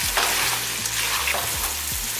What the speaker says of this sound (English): Now let's check back on the sausage.